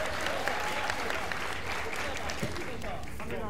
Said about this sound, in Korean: 응원의 박수 부탁드리겠습니다.